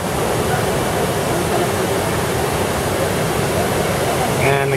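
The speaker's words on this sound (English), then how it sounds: "There's another waterfall. All hot water, it's great." A hot-water waterfall at Grutas Tolantongo in Hidalgo, Mexico pours as a dense, steady rushing hiss, close and unbroken throughout, with a brief faint voice at the very end.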